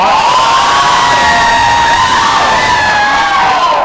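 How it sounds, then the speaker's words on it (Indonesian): A student crowd at a campus gathering cheers and whoops to welcome the student body president from Makassar, a loud, continuous wall of shouting voices lasting throughout with no speech over it. "Langsung aja beri tepuk tangan dan mari kita sambut untuk Presma dari Makassar"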